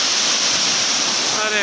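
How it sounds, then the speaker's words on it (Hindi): Loud, continuous roar of fast-flowing water at a waterfall on the Ganga near a confluence, a dense steady wash of rushing noise with no break and no voices. "तेज बहाव है, पर एक झरना देखो"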